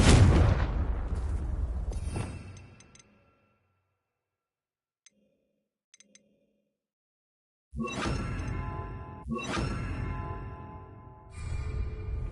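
Fiery explosions from the Confringo spell in a Harry Potter video game: a heavy blast fades out at the start, then after a near-silent gap three more loud booming bursts follow in quick succession.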